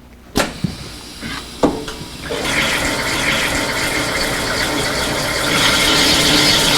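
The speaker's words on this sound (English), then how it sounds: "you simply press start and grinding is done automatically" An Aka-Piatto automatic grinding machine grinding a sample starts with a couple of sharp clicks, then settles into a loud, steady whirring hiss that builds slightly toward the end, with no voices.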